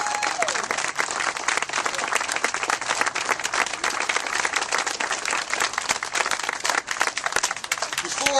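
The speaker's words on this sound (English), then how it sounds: "she needs a huge round of applause" A dense, loud round of applause from the audience at a political endorsement event, sustained clapping from a crowd throughout.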